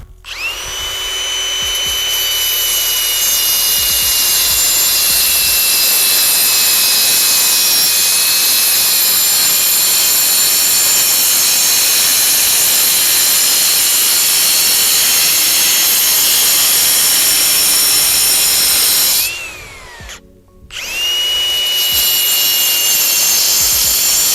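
An angle grinder with a diamond cutting disc at 8500 rpm bites into a reinforced concrete curb, making a loud, close, high whine that drops in pitch under load. Near the end it briefly cuts out and then spins back up.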